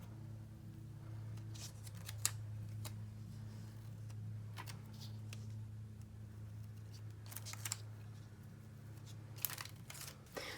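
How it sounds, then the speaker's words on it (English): Heat transfer vinyl pieces being peeled off a onesie, giving a run of soft crinkling and tearing rustles in irregular bursts over a low steady hum, close and fairly quiet. "now we're ready to peel our pieces here"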